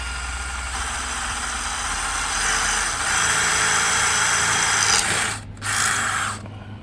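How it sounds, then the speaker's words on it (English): Power drill boring bolt holes while a small dresser is installed in a No Boundaries 19.1 toy hauler: a steady whining run for about five seconds, then two brief stops and restarts. "So I'm going to go drill these holes next."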